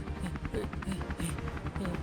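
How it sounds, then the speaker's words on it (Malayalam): A cartoon helicopter flies with a rhythmic, pulsing rotor thump and a buzzing drone, fairly close and steady throughout, with a faint hint of voices underneath. "ദേ പോകുന്നു ആ ഹെലികോപ്റ്റർ."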